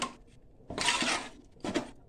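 Spoon scraping through thick arisalu rice-flour dough in a pot on the stove, two bursts of clattering, scraping stir about a second apart against a quiet background.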